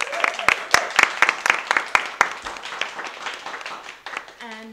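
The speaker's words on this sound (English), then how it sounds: "So please will you give a round of applause for old Waconian and LGBTQ plus activist Eva" A podcast audience claps for a guest in a small room, a round of sharp, distinct hand claps from a modest group that thins out and fades toward the end.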